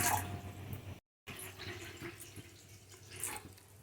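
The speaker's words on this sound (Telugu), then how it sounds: "ఒక గిన్నె పెట్టుకుని దానిలో ఒక రెండు గ్లాసుల వాటర్ పోసుకోవాలి" Quiet water splashing and trickling into a pot on a stove, about two glasses, soft and close, with a brief gap partway through.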